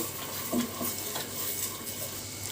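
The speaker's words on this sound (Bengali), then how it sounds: "এই জলটা টেনে যাওয়ার পর তারপর মশলাগুলো ভাজা ভাজা হয়ে যাবে।" Onion-based masala for Bengali prawn malai curry sizzles gently in a pan while being stirred, the fry steady and close with occasional utensil scrapes and no talking.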